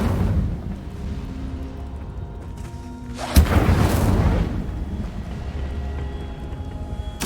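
A fire spell cast in Hogwarts Legacy lands as a sudden loud whooshing burst with a roaring swell that fades over about a second, over a steady low game ambience with no talk.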